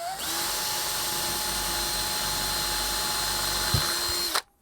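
A power drill bores holes into a model railroad layout, a steady close whine running for about four seconds with a brief bump near the end before it stops abruptly.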